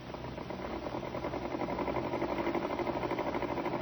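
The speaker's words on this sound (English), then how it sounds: "you heard the sewing machine just now" A sewing machine runs continuously with a faint, fast, even mechanical whirr and patter, with no voices over it.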